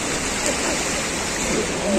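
A river in full spate at a village festival pours with a dense, steady rushing roar that stays loud and unbroken, and faint voices sit beneath it.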